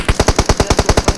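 Rapid machine gun fire in the PUBG video game, about eleven loud, evenly spaced shots in a quick steady burst with no talking.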